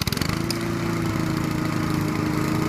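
A lawn mower engine fires up with a few sputtering pulses, then settles into a loud, steady, close-up running drone.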